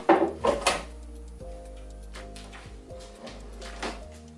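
Wooden walnut desk drawers with attached fronts closing, several soft thumps and slides near the start, followed by quieter low bumps against a steady hum.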